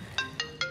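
A phone ringtone plays three quick electronic chirps in an even, rapid rhythm, clear and moderately loud against a quiet room.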